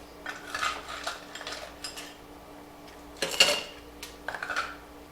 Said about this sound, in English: we're going to start off with just a little bit of ice and put that in the tin